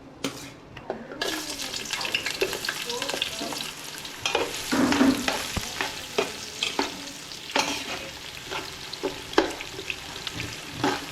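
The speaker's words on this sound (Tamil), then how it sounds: "இப்போ நம்ம வெங்காயத்தை ஆட் பண்ணிடுவோம்." Onions frying in ghee in a pan for ghee rice, sizzling steadily while a spoon stirs them in repeated close scraping strokes, with a brief quiet start and no talking.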